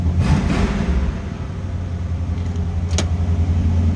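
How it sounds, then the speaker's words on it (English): A 1979 Pontiac Firebird Trans Am engine idles steadily at high idle with a low, even rumble, a brief higher-pitched rev or whine near the end. "Let this warm up just a tad. See if that high idle will come down."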